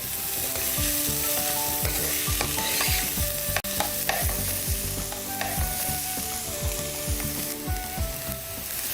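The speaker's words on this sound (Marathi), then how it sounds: "बारीक चिरलेला कांदा हा हा सुद्धा आपण पूर्ण बारीक आणि ब्राऊन होईपर्यंत ह्याला भाजून घेऊयात" Finely chopped onion fries in a pan until it turns brown, giving a steady loud sizzle with repeated scraping strokes from stirring and no voices.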